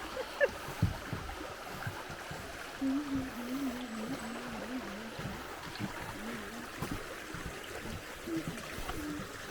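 A creek in the Mount Rainier rain forest flows and trickles with a soft, steady wash of water, faint and even, with a few light knocks and a brief low tonal sound mixed in.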